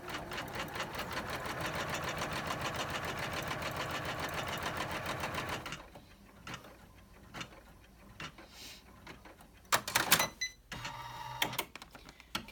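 An embroidery machine runs steadily while stitching an in-the-hoop credit card wallet, a fast, even mechanical chatter for about six seconds that then stops, followed by quieter handling clicks and rustles.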